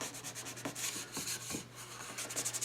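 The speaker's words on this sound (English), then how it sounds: "I'm just sanding the shellac." Sandpaper rubbing across a shellac finish on a cherry wood tray, worked against the grain, in a run of close, rhythmic back-and-forth strokes over a steady low hum, with no voices.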